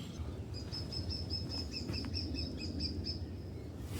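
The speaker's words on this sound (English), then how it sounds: "Middle spotted woodpecker." A middle spotted woodpecker calls in a forest with a rapid series of high, evenly spaced notes over steady background noise.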